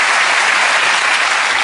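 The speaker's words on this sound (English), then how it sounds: "A nice round of applause for Jonathan." A theater audience at a magic show gives a loud, dense round of applause, steady clapping that fills the whole short stretch without pause.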